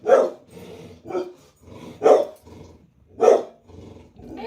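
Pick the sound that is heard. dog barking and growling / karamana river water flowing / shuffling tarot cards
dog barking and growling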